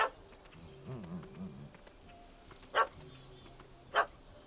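A dog barks at a cat in The Witcher 3, two sharp bursts standing out over a low game soundscape, with a voice murmuring early on.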